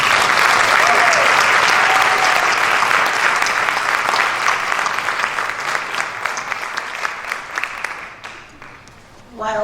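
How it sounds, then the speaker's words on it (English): Audience at a school board of education meeting bursts into sustained applause, dense clapping filling the room for several seconds before thinning out and fading near the end. "Another round of applause."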